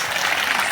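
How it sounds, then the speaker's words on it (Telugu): An audience at a drama festival in Ongole claps in a brief, dense burst of many hands, loud and even from start to end. "క్లాప్స్."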